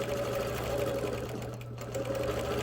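A sewing machine stitches a quilt, giving a quiet, steady mechanical whir and hum that runs without pause, with a slight drop in level midway.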